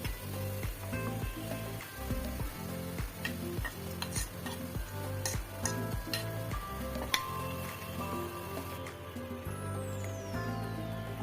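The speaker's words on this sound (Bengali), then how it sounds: "এখন এর মধ্যে একটু সয়া সস দিয়ে দিব মশলাগুলো ভালো করে কষিয়ে নেব" Spice paste stirred into fried onions in a pan for a chicken dish, with a steady sizzle under repeated rhythmic scraping strokes of a spoon, close and fairly loud, without talk.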